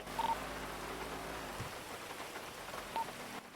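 Steady light rain falls as a soft continuous hiss, faint and even throughout, with a couple of brief tonal chirps over it.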